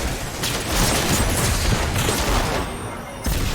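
Dense, overlapping gunfire and booms fill a chaotic firefight in the video game Destiny 2. The bursts are loud and nearly continuous, with some voice faintly mixed underneath.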